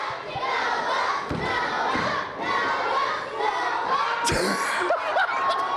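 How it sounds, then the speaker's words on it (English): A basketball arena crowd roars and cheers loudly, with surging shouts, whoops and scattered claps rising and falling over several seconds, no clear speech on top. "Listen to the crowd."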